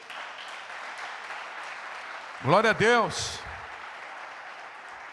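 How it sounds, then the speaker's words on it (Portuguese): A church congregation applauds during a worship service, the first of 2021, with a steady wash of clapping running throughout while a voice calls out over it. "Você pode aplaudi-lo nessa noite?"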